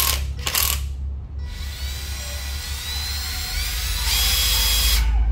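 A used Japanese cordless battery drill is tested. Two short mechanical bursts come first, then a sustained whirring, ratcheting run of several seconds, close and clear with no talk.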